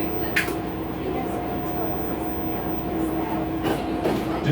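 A Chicago CTA Brown Line elevated train heads toward the Loop, its steady rumble and rail hum running throughout, with faint clicks, brief squeals and a few short bursts of noise over it.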